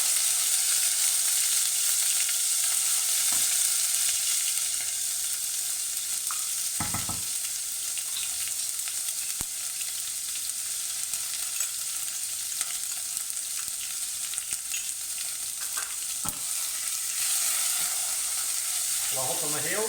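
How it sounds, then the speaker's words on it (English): Cumin seeds and garlic paste sizzling in hot oil in a pan, a steady bright hiss of frying with occasional soft pops and stirring clinks throughout. "our jeera, our cumin seeds, so they're going to pop away quite nicely"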